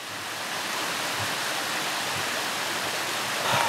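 A stream flows below a forest hiking trail in the Black Forest area, a steady, broad rushing wash of water, fairly loud and constant with no voices.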